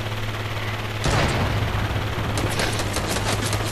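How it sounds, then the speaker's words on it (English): Rapid bursts of gunfire from an assault rifle in a shooter video game's creative mode, a sharp blast followed by clustered, repeated shots in the foreground. "I could shoot you in the air, right?"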